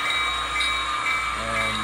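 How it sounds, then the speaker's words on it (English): A northbound passenger train makes a brief halt at a rural flag stop beside a lake shelter, giving a steady, close rumble of railcars with high metallic tones throughout, shifting slightly near the end. "The train will briefly stop."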